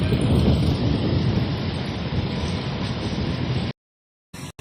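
Rain pours on passengers at a port after arriving from Marinduque, a steady loud hiss for several seconds that cuts off abruptly, followed by a few short bursts.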